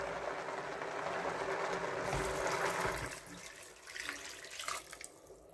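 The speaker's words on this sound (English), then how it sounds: "Then I will add my water." Water pours steadily into a cooking pot holding Nigerian oil beans with onions and salt, a continuous splashing stream that thins out into trickles and drips near the end.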